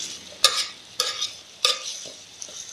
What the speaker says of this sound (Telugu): ఇలా బాగా బాగా కాకరకాయ వేయించుకోవాలి నూనెలో.